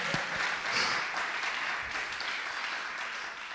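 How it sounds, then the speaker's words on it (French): A church congregation applauds, a dense, steady wash of clapping from many hands that swells slightly early on and then holds at an even level. "On acclame le Seigneur."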